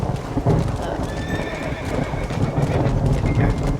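Horse hooves clip-clop steadily with an occasional whinny in the Red Dead Redemption video game, with rain on the Xbox version, while someone talks over the gameplay.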